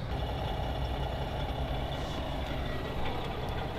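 A parked truck rig's engine idling with a steady low rumble and faint mechanical whine, close and continuous throughout with no voices.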